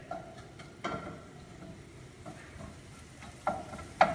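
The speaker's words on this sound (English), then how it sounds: "So you'll see, kind of sizzles, all the garlic oil rushes out of that" Soft, steady crackling sizzle of garlic frying in oil, with a few sharper pops and ticks scattered through, close and fairly quiet.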